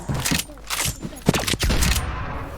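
Rapid bursts of gunfire in the Fortnite video game, several volleys with short gaps, loud and close, mixed with game sounds.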